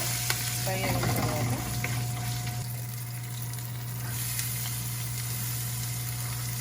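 Dried red chillies, two green chillies and curry leaves frying in hot oil for a berakaya curry, a loud continuous sizzle with steady crackle and a low background hum, close up, no talking.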